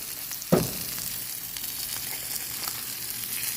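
Steak frying in a pan in a truck cooking setup, a steady low sizzle with one sharp clatter near the start, otherwise continuous and moderately quiet.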